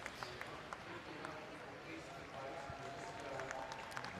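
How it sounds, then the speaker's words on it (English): Applause from spectators at a track cycling Nations Cup velodrome in Milton, Canada, a steady, fairly faint wash of clapping and crowd murmur across the arena, with scattered sharper claps. "applause from the fans here in Milton"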